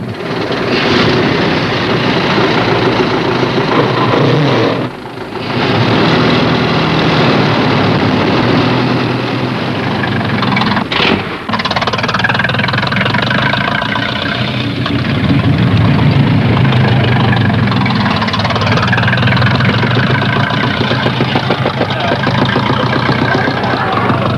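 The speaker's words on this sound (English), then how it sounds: "Gabriel leads off for France. Lancia of Italy is on a Fiat. That's a new Renault" Early motor racing cars, a Fiat and a new Renault among French and Italian entries, roaring steadily at the start of a race, a dense continuous engine drone with brief dips, loud and near throughout without talk.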